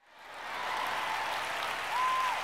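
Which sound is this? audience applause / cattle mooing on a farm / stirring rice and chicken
audience applause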